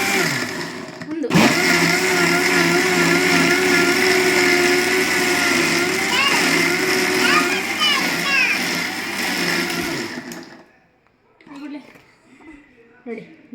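An electric mixer churning cream into homemade butter, a loud continuous whirring drone that runs for about ten seconds and then stops, leaving faint household sounds and voices in the background.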